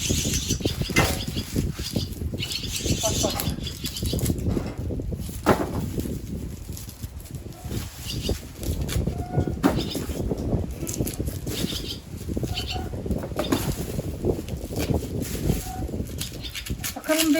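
Small birds at a tiny nest crowded with four chicks in a village setting, with scattered chirps and brief wing flutters fairly close over steady outdoor wind noise.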